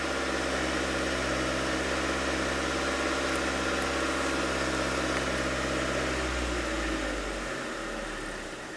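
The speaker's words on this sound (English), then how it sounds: "Step on the gas a little bit here." A 2003 Mazda Protege four-cylinder engine with an idle misfire runs steadily with a low, even hum, held at raised throttle for most of the stretch before easing off slightly near the end, close and continuous.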